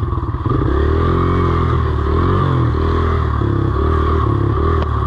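A 2019 Suzuki RM-Z 250 dirt bike runs loud and close throughout, its engine droning steadily with revs rising and falling and some rattling clatter as it is ridden over rough bumps.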